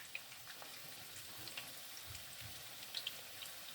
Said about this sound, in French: Donc, j'essaye de mettre mes nuggets à cuire.